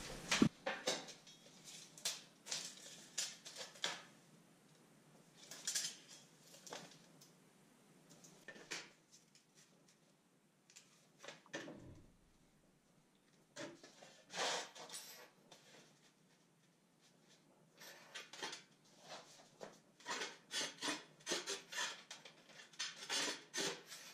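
Scraping and gritty clinking of a hand tile cutter's wheel scoring tile, coming in intermittent bursts with quiet pauses, close and fairly soft.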